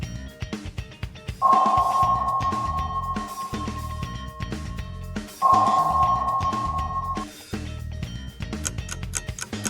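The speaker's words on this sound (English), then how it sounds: "Yes, this is the sound of a submarine." A cartoon submarine sends out two long, steady sonar-like tones a few seconds apart over a busy rumbling underwater backdrop, loud and close.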